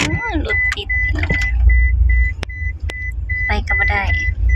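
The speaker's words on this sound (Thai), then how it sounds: "รถติดพี่น้อง" Road traffic at a crowded Thai rocket festival: car engines idle and rumble close by in a jam, with a repeated short electronic beep and occasional clicks, while people talk nearby.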